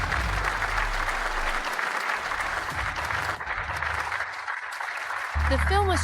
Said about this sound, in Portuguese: vamos dar uma salva de palmas calorosa para dar as boas-vindas aos 3 jurados aos seus lugares